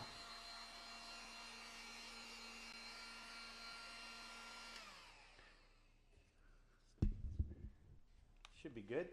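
A heat gun blows a steady, whooshing hum while drying a charcoal drawing surface, cutting off after about five seconds, followed by clunks and handling noise.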